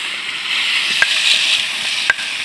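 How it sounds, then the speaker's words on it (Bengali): Rice fries in a pan with a steady, close hiss of sizzling, broken by two sharp clicks of a utensil striking the pan. "চালটা ভেজে নেওয়ার জন্য চালটা ঢেলে দিলাম"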